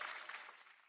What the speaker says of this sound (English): where's our applause?